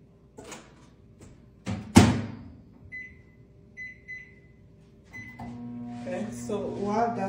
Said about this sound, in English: let me pop this in the microwave for a minute